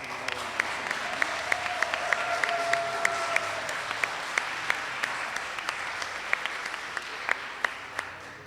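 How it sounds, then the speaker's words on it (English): An audience claps for event organizers, a steady wash of many hands with sharper individual claps standing out, moderately loud and continuous across the whole stretch. "I thought maybe we could even give them a round of applause for just organizing."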